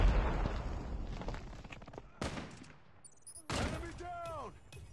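Gunfire from the Grau assault rifle in a first-person shooter video game, with several sharp bursts and single cracks spread across the clip, followed by an in-game voice and electronic effect tones, with talking mixed in.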